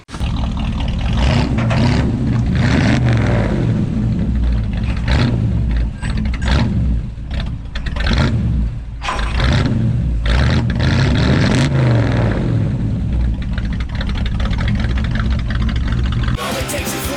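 A 1934 Ford engine revs loudly and continuously, climbing and falling with quick throttle response, its roar sustained at close range through the whole stretch with only brief dips between blips.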